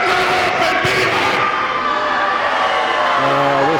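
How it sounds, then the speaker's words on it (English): Loud, dense wrestling arena crowd at an AMW Showdown event, a sustained roar of many voices jeering and booing a wrestler, with a lower drawn-out boo swelling near the end. "I think the fans is doing the right thing, booing him"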